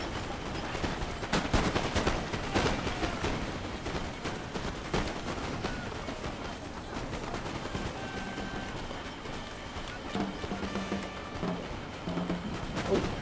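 In the video game Napoleon: Total War, a battle rages with dense crackling musket volleys and booming artillery fire, repeated sharp bursts over a continuous rumble.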